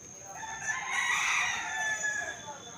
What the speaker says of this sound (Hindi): हमार देवर घर के मुर्गा हवे ते अब्बड़ बासत है